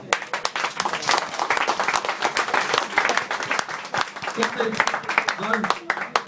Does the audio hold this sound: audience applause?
yes